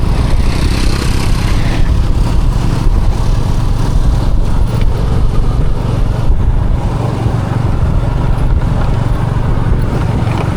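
A traditional tuk-tuk rides along a road in Cambodia, its engine droning loud and constant with heavy low rumble, rattling and rushing wind, and no talk heard.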